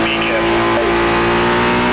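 A GT race car engine in a racing game, a loud steady high-revving drone with strong layered harmonics holding a nearly constant pitch for two seconds, close and unbroken.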